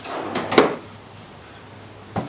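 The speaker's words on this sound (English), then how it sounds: "Put the drawer in," A wooden drawer slides into a small parts cabinet with a couple of close knocks and a scraping thud, then quiet, then one more sharp knock as it seats.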